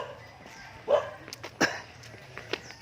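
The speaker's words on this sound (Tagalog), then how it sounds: "may mga aso pala dito." Dogs barking a few times at moderate distance near a river where people fish from a bamboo raft, short sharp yaps spaced across a quiet outdoor scene.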